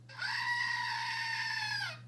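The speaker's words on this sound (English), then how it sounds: "It's a screaming goat." A screaming goat novelty toy is clicked and lets out a single sustained, nasal goat-like scream lasting nearly two seconds over a faint steady hum, with no talk.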